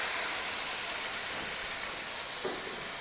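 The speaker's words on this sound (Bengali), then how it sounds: "সামান্য একটু জল দিব" Water poured into a hot pan of cooking banana flower in a village kitchen bursts into a loud, steady steaming hiss that fades slightly as it settles.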